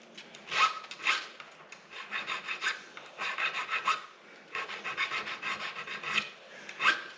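A small file rasps along the frets of an Epiphone Les Paul guitar being dressed, in a series of short, close back-and-forth scraping strokes, with no talking.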